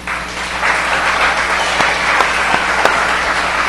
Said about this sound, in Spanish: Den un aplauso al Dios del cielo.